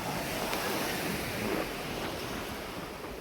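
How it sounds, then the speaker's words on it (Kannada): Sea waves breaking on the beach at Maravante, a steady wash of surf with wind across the microphone, fairly faint and continuous. "ಅಷ್ಟೇ ಅಲೆಗಳು ನೋಡಿ."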